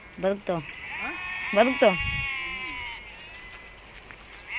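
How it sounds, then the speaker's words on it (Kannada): A flock of native-breed sheep and lambs, some 500 to 600 young, bleats in a few loud, wavering calls close by, with voices faintly present and a low rumble between the cries. "ಎಷ್ಟಿದೆ ಮರಿಗಳು ಇವು? ಒಂದು 500-600 ಆಯ್ತು. 500-600 ಮರಿ."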